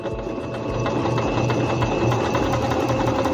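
A Singer C5605 electronic sewing machine stitching fabric in one continuous seam, producing a fast, steady mechanical whirring and rapid needle clatter up close.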